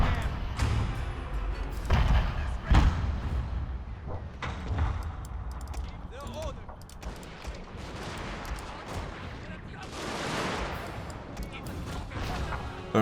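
Artillery and gunfire in a war video game, scattered booming thuds and sharp reports at moderate distance, with a voice talking over the battle.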